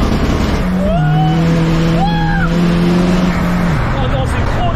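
Seat Ibiza TDI tuned to 600 horsepower with nitrous, engine droning loudly as it accelerates, its pitch climbing, then a gear change to third with a drop and rise in tone, and a voice talking over it.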